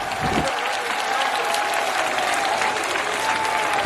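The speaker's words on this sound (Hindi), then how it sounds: "जोरदार तालियों के साथ खड़े होके योगी आदित्यनाथ जी का स्वागत" Loud, sustained applause from a large crowd welcoming Yogi Adityanath at an election rally, beginning with a burst and continuing as dense clapping throughout.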